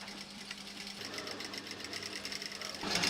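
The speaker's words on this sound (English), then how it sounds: "The horsehair ribbon is then sewn to the underskirt." Steady whirring of a sewing machine stitching haute couture fabric, horsehair ribbon joined to an underskirt in a Dior atelier, running continuously at close range with a slight rise toward the end.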